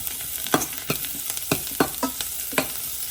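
Ginger and dried chillies fry in a pan with a steady sizzle, while a spoon scrapes and stirs through it in about eight sharp, evenly spaced strokes. The sounds are close and clear, and no one speaks.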